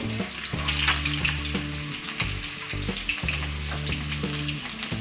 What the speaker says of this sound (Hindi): इसे भी हम हाई फ्लेम पे ही फ्राई करेंगे और गोल्डन ब्राउन होने तक इंतज़ार करेंगे।